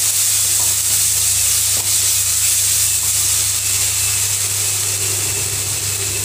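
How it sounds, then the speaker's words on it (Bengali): Cumin and coriander powder frying into a spice paste (masala) for a Bengali katla fish curry, a steady loud hiss and sizzle running unbroken throughout with no talking. "ভালো করে কষিয়ে নেব।"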